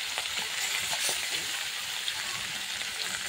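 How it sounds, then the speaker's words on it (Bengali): Fish pieces fry in hot oil in a wok, giving a steady crackling sizzle with scattered pops and spatters that continue throughout. "এখন আমি আগে মাছগুলো ভেজে নেব"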